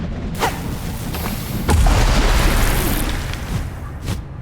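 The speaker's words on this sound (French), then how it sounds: "De quoi si j'envoie une bombe dans le néant?" A bomb goes off in the video game Hollow Knight: Silksong, a single loud low boom and rumble that swells, then fades over a few seconds. A short burst of game noise comes before it.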